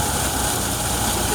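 A mini thresher powered by a 135 tractor, threshing millet, runs with a steady, loud mechanical drone and engine rumble throughout, with no voices.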